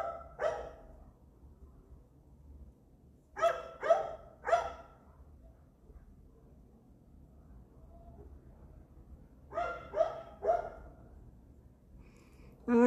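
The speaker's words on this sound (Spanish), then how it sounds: "el perro del vecino anda dando lata" A neighbour's dog barks in three separate clusters of two or three sharp barks, moderately loud and a little distant, with quiet gaps between and no one speaking.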